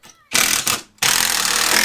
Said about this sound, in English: you drill or back out the screws, then drill them back in